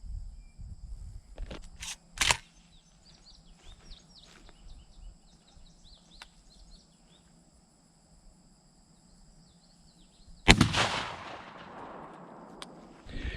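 A Browning A5 shotgun fires Winchester Blind Side shells outdoors during a patterning session. Two loud, sharp blasts ring out several seconds apart over a quiet background of chirping insects.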